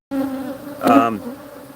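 Honeybees buzzing around an opened hive: a close, steady droning hum that swells briefly in the middle as a bee passes near, then settles back, with no talk.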